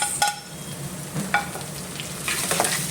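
Chopped tomato sautéing in a pan with browned onion, garlic and ginger for ginisang monggo, giving a soft continuous sizzle with a few light stirring scrapes.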